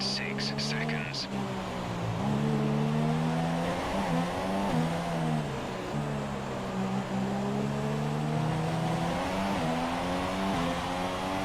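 F1 race car engines in F1 2017 during a race in Mexico, a loud high-pitched scream that rises and falls with gear changes and throttle, continuous and near, with commentary running over it.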